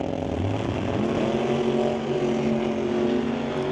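A 1941 Willys doorslammer drag car makes its run at a drag strip, with a loud, continuous engine roar whose pitch climbs steadily as it accelerates and stays dense and close throughout.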